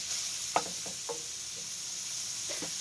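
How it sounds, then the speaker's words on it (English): Half-frozen hamburger meat sizzles in a pan with a steady frying hiss, broken by a few soft scraping stirs as the meat is broken up. "It's still about half frozen, but it's cooking now."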